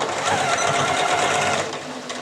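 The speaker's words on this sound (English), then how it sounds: "I'm going to take this one more time to my sewing machine and stitch those down" A sewing machine stitching darts on a front skirt piece, running fast and steady with a close, loud, continuous whirring drone before easing off near the end.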